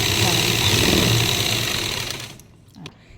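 Sewing machine stitching the belt of a lined salwar, a loud steady whirring run that slows and stops partway, followed by a few faint clicks and handling noises.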